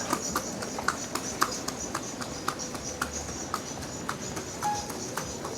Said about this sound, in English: Here goes one of those horse and cart things.